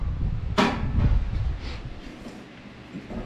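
The metal door of a Z-Grill 10003de wood pellet smoker is handled during assembly, giving one sharp, close clank followed by softer rattles and knocks.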